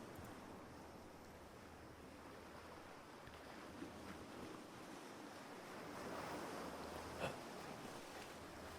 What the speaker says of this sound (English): sitting in the sand, listening to the waves.